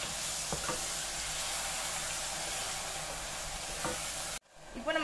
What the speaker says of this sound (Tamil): எல்லாத்தையும் ஒரு கெண்டி கெண்டிக்கிறோம்.